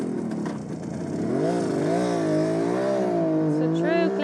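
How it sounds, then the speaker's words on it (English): A 1971 Kawasaki H1A 500 Mach IV two-stroke motorcycle is ridden in the Netherlands, its engine close and loud, buzzing and rising in pitch as it accelerates through the gears, with no pause. "We're going to drive this nice Kawasaki H1A today"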